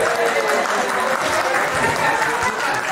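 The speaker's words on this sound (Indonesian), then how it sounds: "Coba tepuk tangan buat yang di belakangnya." Congregation applause during a talk on connectivity in life, a loud, continuous crowd clapping that holds evenly throughout, with faint voices mixed into the wash.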